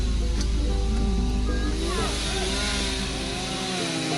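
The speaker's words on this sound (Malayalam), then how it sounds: "റോഡിൽ മരം മുറിക്കുന്നുണ്ടായിരുന്നു" A chainsaw cutting a tree on a road near the Meenvallam waterfall drones and revs loudly over constant rushing noise, with voices audible underneath.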